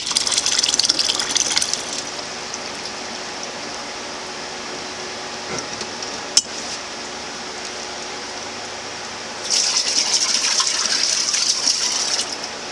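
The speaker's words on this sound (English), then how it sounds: "now I'm putting 3 quarts of water into my canner" Water pours into a home canner, a broad rushing gush that eases to a steadier filling sound, then swells again near the end; close and fairly loud, with no talking.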